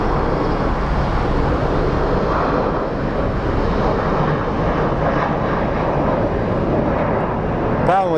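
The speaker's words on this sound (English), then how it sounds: "will this baby Embraer take off early?" An Embraer jet roars loudly as it takes off at Sky Harbor International Airport in Phoenix, a continuous heavy engine rumble with a voice talking over it.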